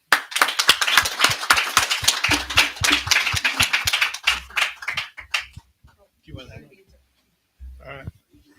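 Brief burst of audience clapping welcoming Judge Docter to speak at an event, sharp individual claps in a quick irregular rhythm for about four seconds, thinning into a few scattered claps and near silence.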